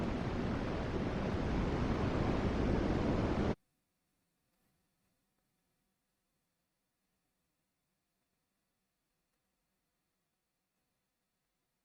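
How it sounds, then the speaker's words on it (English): Large ocean waves crash and roar as a loud, continuous wash of surf for a few seconds, then cut off abruptly into near silence. "Those waves are huge."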